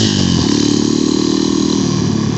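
An XMOTOS dirt bike motorcycle rides along at a steady throttle, its engine a loud, continuous buzzing drone close by with no change in pitch and no voices.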